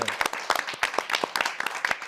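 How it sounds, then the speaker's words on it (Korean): Short burst of audience clapping at a Korean church Bible class on Joshua, sharp uneven claps close by for about two seconds with a little voice mixed in. "박수"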